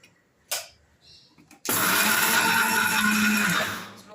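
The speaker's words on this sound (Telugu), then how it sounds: "స్లోగా, ఎప్పుడైనా కొంచెం స్లోగా గ్రైండ్ చేసుకోండి" Kitchen mixer grinder running to coarsely grind almonds for badam laddu, a short whir first, then a steady loud motor roar lasting a couple of seconds that cuts off abruptly.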